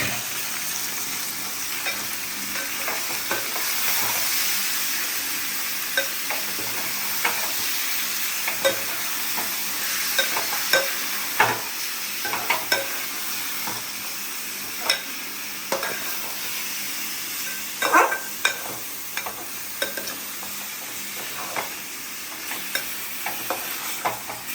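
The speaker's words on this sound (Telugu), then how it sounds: "2 మినిట్స్ ఫ్రై చేసుకోవాలి." Country chicken fries in hot oil, a steady bright sizzle filling the clip, while a spoon scrapes and stirs through the pan in repeated close clinks and scrapes.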